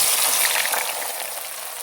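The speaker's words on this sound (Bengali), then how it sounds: "তেলটা গরম হয়ে গেছে, পেঁয়াজটা দিয়ে দেবো।" Sliced onions hitting hot oil in a pan for chicken biryani, a loud, steady sizzle with a bright hiss that settles slightly but continues throughout, close up with no talking.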